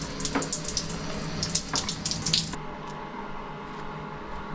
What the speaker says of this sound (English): Day 4, it's shower time for me back home.